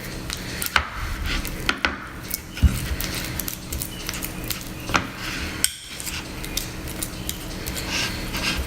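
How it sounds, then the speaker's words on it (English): A fork mashes butter with herbs in a bowl, making repeated soft tapping, scraping and clinking against the dish in an uneven rhythm, close and moderately quiet. "Mash it up with a fork so that we can actually do something with it."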